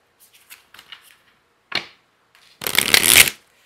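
Shadow Oracle cards being handled in a tarot reading give a few soft taps and a quick riffle, then a dense, loud shuffling burst near the end, close up with no talking.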